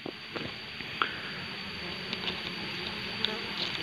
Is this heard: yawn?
no